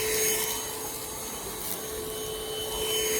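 An Airbot Supersonics vacuum cleaner runs on its slow mode over a floor, giving a steady broadband whoosh with a high motor whine that stays loud and even throughout.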